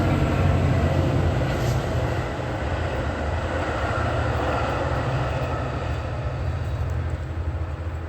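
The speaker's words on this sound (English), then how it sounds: "Also, Salak, you let this train pass by." A train passes by with a steady, heavy rumble that holds throughout, close and continuous with no other sounds.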